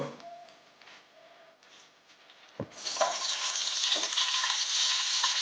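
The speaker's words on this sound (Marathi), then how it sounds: "पहिला हलवून हलवून चांगलं भाजून द्यायचं" Green chillies for a Maharashtrian pickle are dry-roasted in a pan over low heat, first with faint stirring, then a sharp clack and a loud, steady sizzle with occasional scraping.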